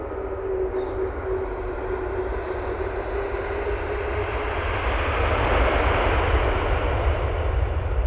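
An Aer Lingus airliner lands at Manchester Airport in low visibility, a steady, broad jet roar that holds for several seconds and swells slightly toward the end, with no talking.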